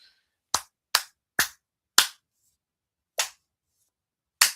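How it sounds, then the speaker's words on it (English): A few sharp, separate hand claps ring out close by in an uneven rhythm, with quiet gaps between them and no voices. "A round of applause for Stanley Cross, man."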